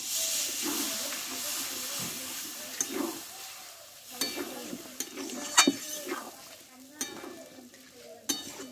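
A splash of water poured into a pan of frying potato and eggplant curry sets off a loud hissing sizzle. Scraping and clinking stirring strokes follow, the hiss calming as it goes.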